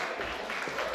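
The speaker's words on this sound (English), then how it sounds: "Please, can we give Chinwe a round of applause?" Applause for Chinwe at a 50th birthday celebration for Princess Ijeoma Odukwu, a steady wash of many hands clapping together, moderately distant and even throughout the brief moment, with no voices over it.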